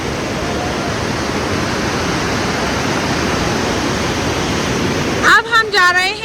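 River water rushes loudly below a swaying bridge near Turtuk, a dense, steady roar filling the scene, before a voice briefly cuts in at the very end.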